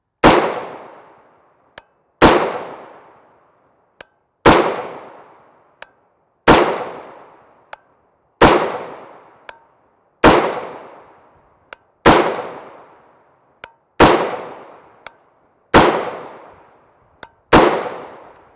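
Rifle shots ring out with 5.56x45mm MK262 Mod 1 Black Hills 77gr OTM ammunition, fired through a muzzle brake: about ten loud, sharp reports at a slow, even pace, each trailing off in a short echo, with small clicks between them.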